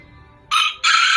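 Serama chickens sound off in two loud, close bursts, a short crow-like call followed by a longer one, after a quiet start with faint background noise.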